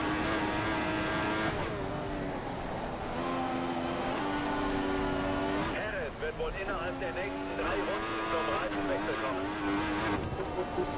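A Formula 1 car in the F1 2014 video game whines and drones as it drives into the pit lane at the Austrian Grand Prix, its engine pitch falling and rising through gear changes, with someone talking over it.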